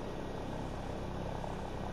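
Helicopters fly overhead in the video game Call of Duty: Modern Warfare Remastered, making a dense, steady rotor roar that fills the short moment at a constant moderate level.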